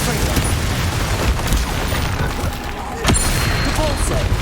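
Confringo fire spell blasts in the video game Hogwarts Legacy during a boss fight, dense booming explosions and crackles that run continuously, with a sharper burst near the end, loud amid busy game noise.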